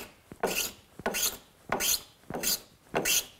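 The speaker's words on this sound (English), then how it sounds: "Planing something down like this is always fun for me." Hand plane shaving a wooden garboard plank on a boat hull under construction, five rhythmic rasping strokes, close and clear with short pauses between passes and no talking.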